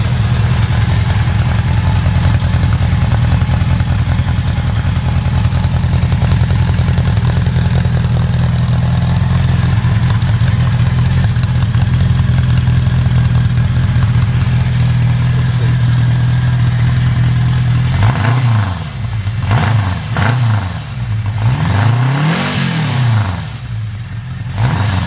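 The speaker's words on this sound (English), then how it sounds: "let me let you listen to the exhaust. This is the stock exhaust" A 1979 Honda Gold Wing GL1000 motorcycle with its stock exhaust idles steadily with a low, even burble, then near the end the engine is blipped a few times, revving up and dropping back down.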